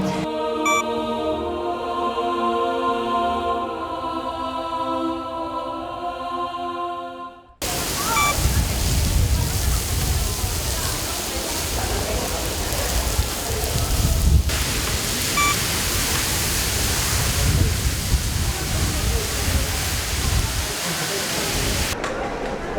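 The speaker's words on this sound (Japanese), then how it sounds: "えらい雨ですね。" Heavy rain pours down in Kraków, Poland, as a dense, steady roar that starts abruptly after a brief tonal passage and continues unbroken for about fifteen seconds.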